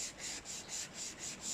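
Dry sanding of Yamaha R1 5JJ motorcycle parts ahead of a respray, worked in a crisscross pattern: steady rhythmic rubbing strokes, about four back-and-forth passes in under two seconds, close and fairly quiet with nothing else heard.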